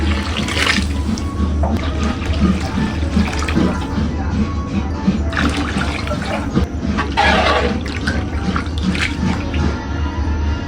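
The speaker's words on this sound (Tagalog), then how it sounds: "Lalagyan ko na po ito ng sabaw." Broth pours and splashes into a pot of chicken sotanghon with a steady rushing liquid sound and intermittent sloshes, close and continuous throughout.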